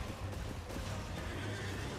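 Horse neighing in the video game Elden Ring, a short close whinny over a low rumbling game background.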